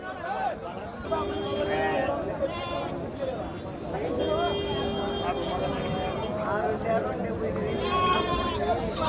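Sheep bleat repeatedly amid a busy crowd at a livestock market, several animals calling over one another while people talk in the background.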